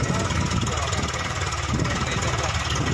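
A Swaraj 733 or Mahindra 265 DI tractor engine runs steadily at a constant, loud, rumbling drone while hauling a loaded trolley, with no pauses across the stretch.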